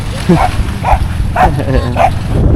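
Four short barks from a dog at a steady rhythm, fairly close, over a constant low background hum, at a seaside campsite in Palawan.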